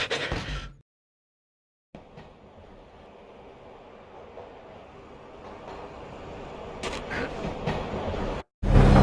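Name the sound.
train ride in a video game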